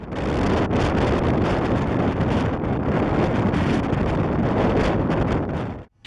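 Strong squally winter wind buffets the microphone in a steady, roaring rush on a snow-drifted road near Velyka Kalynivka, Khmelnytskyi district, loud and unbroken for several seconds before cutting off abruptly.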